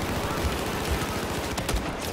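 Dense, continuous gunfire from Battlefield 4 gameplay, with rapid rattling shots and a few sharper cracks layered over a constant loud game din.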